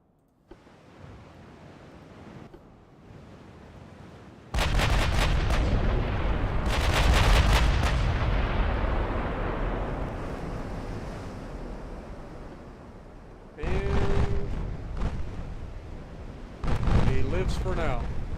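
Naval artillery from 8-inch and 16-inch warship guns booms in the Ultimate Admiral Dreadnoughts video game, with several heavy salvos in separate bursts over a steady roar of ocean waves and wind.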